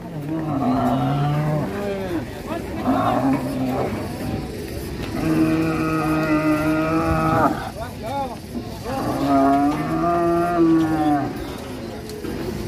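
A cow moos repeatedly, several long, loud, drawn-out lows close by, with short pauses and background noise between calls.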